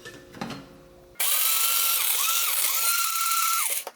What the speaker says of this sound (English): I'm going to grind this up